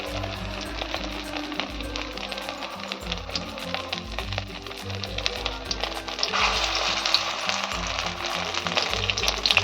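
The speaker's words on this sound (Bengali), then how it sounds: "লাল লাল করে আমি ভেজে নেবো" Soybean chunks fry in hot oil in a pan, giving a steady broadband sizzle with light taps and stirring throughout, fairly close and continuous with no talk over it.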